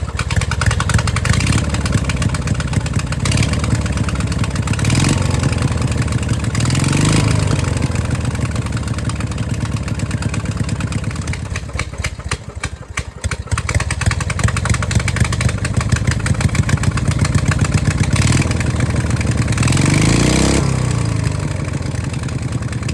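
The engine of a custom vehicle build called Beast 2 runs with its fuel pump primed, a loud, close, continuous mechanical drone with a rough pulsing rhythm throughout, briefly dipping midway before holding steady again.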